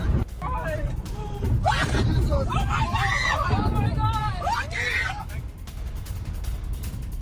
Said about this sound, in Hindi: बहरीन के अमेरिकी बेस पर हुए अटैक के बाद चीख पुकार